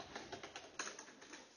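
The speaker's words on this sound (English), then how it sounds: "and typing on the keyboard." Rapid, uneven clicking of keys on a computer keyboard at a desk, a steady run of close, crisp taps with no talking.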